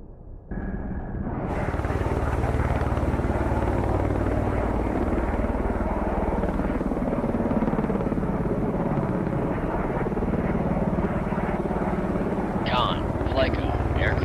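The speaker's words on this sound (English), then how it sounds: "Con, Flyco, aircraft landing." Aircraft landing on the carrier Admiral Kuznetsov in the naval game Cold Waters, a loud steady rotor-like roar that starts after a brief quiet moment and holds throughout, with a few faint tones near the end.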